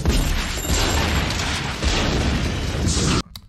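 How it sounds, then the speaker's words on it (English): A loud, roaring explosion from the movie The Crow rumbles with broad noise for about three seconds, then cuts off abruptly into near quiet. "His actor seemed pretty close to that explosion."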